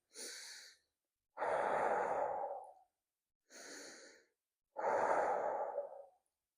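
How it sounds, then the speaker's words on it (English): Close, calm nasal breathing in a relaxed exercise setting: two cycles, each a short breath followed by a longer, fuller airy breath, separated by clean silences. "breathe in through the nose"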